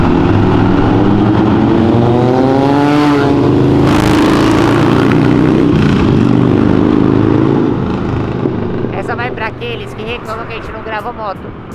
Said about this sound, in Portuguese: realmente tem muito carro passando hoje